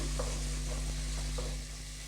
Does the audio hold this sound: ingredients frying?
yes